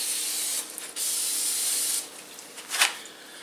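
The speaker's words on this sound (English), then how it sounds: "And yes, this is brake clean." Brake cleaner sprayed onto the front brakes of a 1985 Corvette: two loud, steady hissing bursts, the first brief and the second longer, followed by quieter rustling and a short final spritz.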